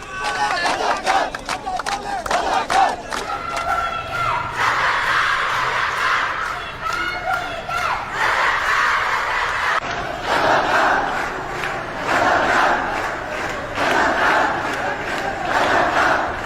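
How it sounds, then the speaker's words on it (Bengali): A large crowd of protesting students chants the slogan "Razakar, Razakar" in a loud, rhythmic, repeated call, many voices together in steady waves. "দিনটি ইতিহাসে জায়গা করে নেয় রাজাকার রাজাকার স্লোগান ঘিরে"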